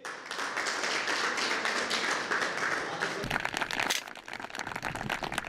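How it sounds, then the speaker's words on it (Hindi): Loud, dense applause from a studio audience at a farmers' question forum on chemical-free farming, steady crowd clapping that briefly thins and then picks up again. "जोरदार तालियां उनके लिए बजा दीजिए"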